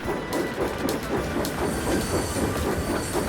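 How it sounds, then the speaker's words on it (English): A goods train clatters into a station with rhythmic wheel clicks, metallic squeals and hissing, loud and close, with no voices over it. "Donald came clattering in with a goods train."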